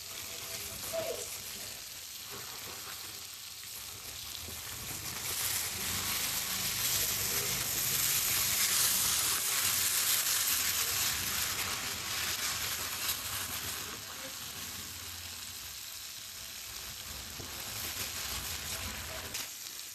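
Fish frying in a pan North Chennai style, turned over partway: a steady hissing sizzle that swells in the middle and eases off, with faint clinks and stirring.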